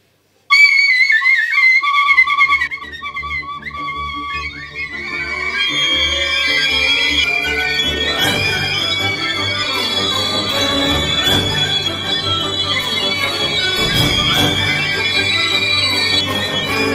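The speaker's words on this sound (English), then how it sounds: "Primary school children playing the tin whistle" Several shrill tin whistles played by primary school children at once in an unsynchronised, squealing tangle of high notes, loud and close, with no talking.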